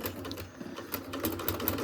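Sewing machine stitching down the edge of a fabric watch band in a short, quiet burst of rapid, slightly uneven needle clicks heard up close.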